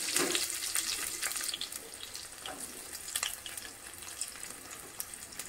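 Onion pieces frying in hot oil in a pan with tempered spices, a steady crackling sizzle with sharper spits and pops scattered throughout, no talking.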